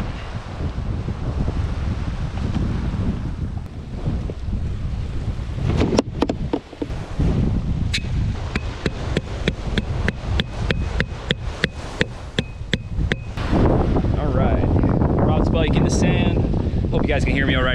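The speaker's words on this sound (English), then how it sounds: "It's pretty windy out here" Strong wind buffets the microphone on a beach during summer shark and striper fishing, a loud continuous roar with gusty swells, joined by a run of sharp rapid clicks in the middle.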